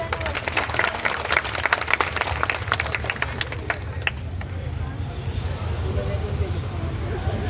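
Audience applause at a Shiv Jayanti festival celebration in Pimpri, a burst of crowd clapping in the first half that fades into a steady low hum of the gathering.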